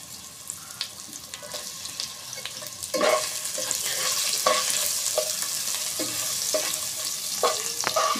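Onion and ginger-garlic paste fry for a cabbage ghonto, a hissing sizzle that swells louder partway through, with scattered clinks and scrapes of stirring and no speech.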